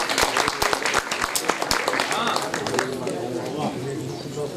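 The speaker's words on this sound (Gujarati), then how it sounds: "તાળી ચાલુ રાખો." An audience at a saints' gathering claps in sharp, rhythmic beats that then blur into looser applause under a loud voice speaking over it.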